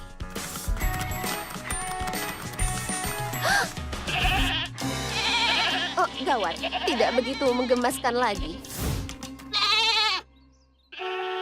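Several goats in an animated Barbie cartoon bleat repeatedly in wavering, drawn-out cries, mixed with cartoon music and mechanical clicking, while a character speaks over them.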